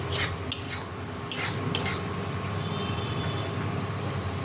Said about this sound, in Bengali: এইভাবে নাড়াচাড়া করতেই হবে।